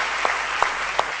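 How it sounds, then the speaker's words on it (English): Steady applause from an audience at an award ceremony honouring real-life heroes, a continuous wash of clapping with a few sharper claps standing out. "a round of applause"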